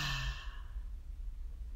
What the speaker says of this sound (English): we breathe in through our nose and take a loud exhale through our mouth